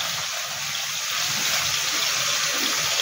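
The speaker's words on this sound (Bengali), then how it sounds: "এবার এর মধ্যে একটু জল মেশাবো" Water pours steadily into a bowl of ground mustard paste and green chilli for a Bengali-style fish curry, a continuous soft gushing splash that runs alone throughout.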